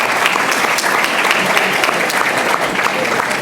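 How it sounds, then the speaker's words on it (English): Audience applause at a Chicago public meeting, a steady dense round of clapping from a crowd, fairly loud and continuous throughout with no talk over it. "Round of applause."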